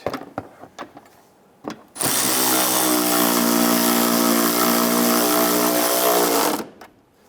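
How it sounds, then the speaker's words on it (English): A power tool snugs down a nut while a front inner fender liner is replaced on a 1995-2001 Ford Explorer. A few clicks and knocks come first, then a loud steady whirring drive runs for about four and a half seconds before stopping abruptly. "Let's snug down that nut."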